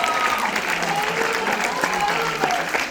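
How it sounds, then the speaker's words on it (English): Audience applause for footballers at an event on a corporate campus, dense continuous clapping with a murmur of crowd voices mixed in, loud and close throughout. "Clap for them."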